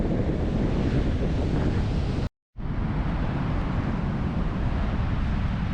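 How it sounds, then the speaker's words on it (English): Heavy North Sea surf rolls onto a misty Scottish beach near Montrose, a loud continuous roar of breaking waves buffeted by strong wind on the microphone, with one brief dropout midway. "I can't believe the quantity of waves rolling up on us right now"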